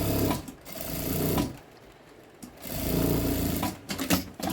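A sewing machine stitches the loose lining of a double box-style toiletry bag: two close, loud runs of steady motor whir and needle chatter, split by a short pause, with no talking.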